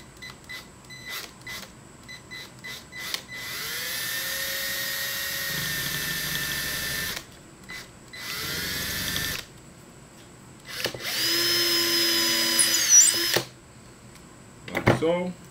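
A power drill bores through a homemade topwater mouse lure and into a plywood backing board, whining in sustained bursts of several seconds with short pauses between them, close and fairly loud.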